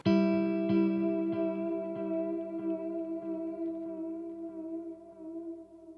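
Ambient electric guitar chord rings out through delay and reverb, a few soft repeating strikes blooming into a long, sustained wash that slowly fades, heard alone and fairly close.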